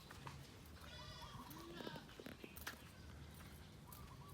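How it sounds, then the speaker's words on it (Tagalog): Sheep and goats bleat while returning to the farm from grazing outside, with several overlapping calls at mid distance over a steady outdoor background of hooves and farm noise. "pauwi na ang ating mga tupa at kambing galing sa kanilang pangangain ng damo sa labas ng farm"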